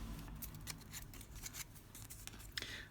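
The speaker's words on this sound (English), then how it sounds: "I'm just going to use my scissors to just cut it off." Scissors snip through the excess edge of a pre-scored paper travel ephemera piece, a steady run of close, crisp cuts with no talking.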